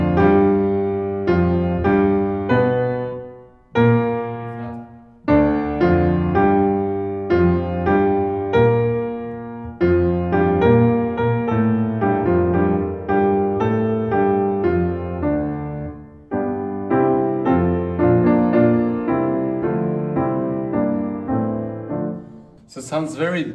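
Solo piano plays the slow opening of Liszt's piece on Vexilla Regis, sustained chords and melodic lines with a brief pause early on, close and full, no talking.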